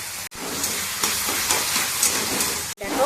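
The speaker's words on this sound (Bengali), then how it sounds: "এবার এটাকে ভাজি, এর মধ্যে একটু চিনি দেবো, চিনি দিয়ে ছানাটা ভাজবো।" Chhena (cottage cheese) frying with sugar in a pan gives a steady, close hiss and sizzle that runs unbroken, with two brief dropouts where stirring pauses.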